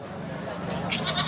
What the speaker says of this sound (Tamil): செம்மறி ஆடு.